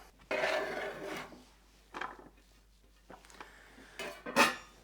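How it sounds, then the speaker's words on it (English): A knife finely slicing washed, unpeeled thin-skinned vegetables on a board, a few separate bursts of rasping cuts with quiet gaps between, close and moderately loud. "the skin is really thin, so I'm not going to bother peeling them, especially since I'm slicing them really fine"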